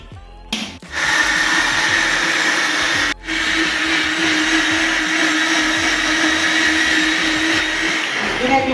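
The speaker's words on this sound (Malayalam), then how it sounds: "ക്യാരറ്റ് ഇട്ട് ഇനി നമുക്ക് കുറച്ച് അടിക്കാം." A juicer blender whirs loudly as it blends chopped carrots, starting abruptly, briefly cutting out once, then running as a steady high motor drone with no talk over it.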